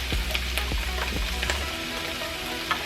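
Rice sizzling and crackling in a hot pan just after being added, with a low rumble in the first half and scattered pops and clicks throughout, fairly close and moderately quiet with no voices.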